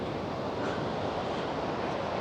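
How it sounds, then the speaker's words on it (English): Choppy sea waves churn in a bay, a continuous loud wash of surf with steady wind noise buffeting the microphone throughout. "The waves are incredible."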